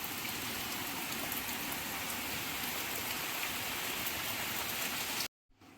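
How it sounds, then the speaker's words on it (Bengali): Heavy rain pours outdoors as a dense, even hiss of drops that runs steadily for several seconds, then cuts off abruptly near the end. "বাইরে পড়ছে দারুণ বৃষ্টি"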